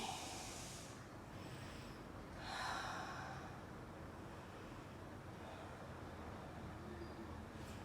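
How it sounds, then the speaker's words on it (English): Deep breathing during a strength-building exercise workout: a few slow, breathy inhales and exhales, soft and fairly faint over a steady background hiss, with no talking. "Deep breathe through your tummy."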